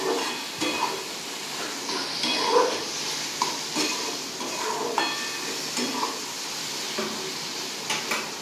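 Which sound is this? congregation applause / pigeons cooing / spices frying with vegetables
spices frying with vegetables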